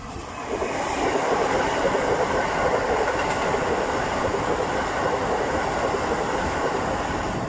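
A Keikyu train rumbles past nearby, a steady loud roar of wheels on rails lasting several seconds with a faint rhythmic clatter, at a crowded cherry-blossom viewing spot.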